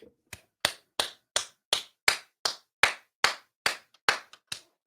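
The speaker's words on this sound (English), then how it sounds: "Do you have an applause button over there, Tony?" A slow, steady clapping effect set off from a button: about a dozen sharp, evenly spaced claps, crisp and close, with nothing else heard between them.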